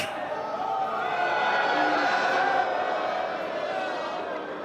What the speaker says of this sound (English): The crowd is getting electric.